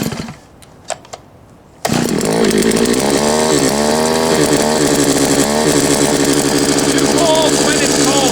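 An Anbull 52CC gas post hole digger engine, cold-started after choking and priming, catches abruptly after a short quiet stretch and then runs loud and steady at a high buzzing rev close by.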